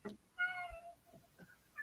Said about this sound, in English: Oh, cute kitty.